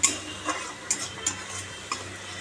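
Nigella seeds and spices frying in hot oil for a parshe fish dish give a steady soft sizzle, broken by sharp, close taps of a utensil against the pan roughly every half second as the mixture is stirred; no talking.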